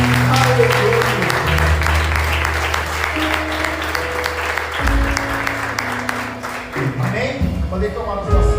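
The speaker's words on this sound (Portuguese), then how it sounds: "Aplauda o Senhor." A church congregation at a Sunday communion service claps steadily and loudly, with sustained organ or keyboard chords underneath and scattered voices mixed into the applause.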